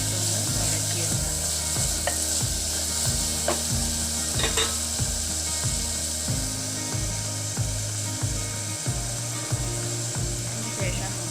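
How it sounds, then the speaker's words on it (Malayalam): Chopped tomato sautéed and stirred with spices in a pan, with a steady sizzle and rhythmic wooden scraping and rubbing strokes repeating close by, and a faint background hum. "എല്ലാം കൂടി യോജിപ്പിച്ച് നന്നായിട്ടൊന്ന് വഴറ്റിയെടുക്കാം."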